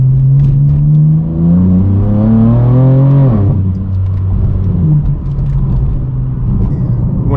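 A BMW M4 F82 with a loud aftermarket exhaust revs hard from the driver's seat, its engine note climbing steadily, dropping sharply as the throttle lifts, then settling into a deep, close rumble.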